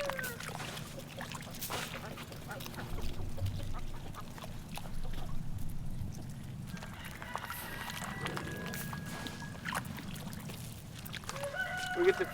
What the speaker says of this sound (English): We get to feed the chickens and the ducks today.